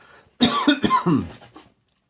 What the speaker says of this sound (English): Excuse me, clear my throat.